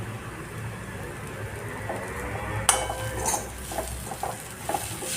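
Mashed brinjal bharit being mixed with coriander and crushed peanuts in a pan, with a low background hum followed by clinks and scrapes of a spoon against the metal.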